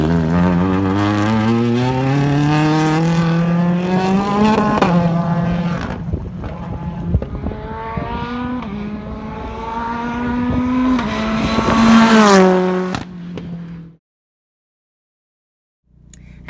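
Hyundai Veloster N engine revs hard on a handling circuit, pitch climbing through gears with sharp shifts, loud and close from inside the car, before cutting to near silence at the end.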